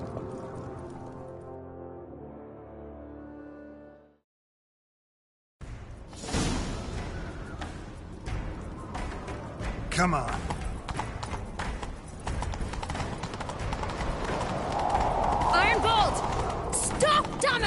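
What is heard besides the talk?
horse galloping in the video game The Witcher 3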